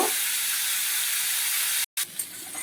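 Cauliflower pieces fry in leftover fish oil from cooking Mourola fish, giving a loud, steady close hiss of sizzling that cuts out briefly near the end and then resumes more quietly, with no talking.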